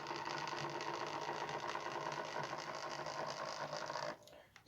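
A Lima Class 47 OO gauge model locomotive runs slowly with a noisy, buzzing motor whir and rhythmic mechanical chatter, steady and close before it abruptly stops near the end.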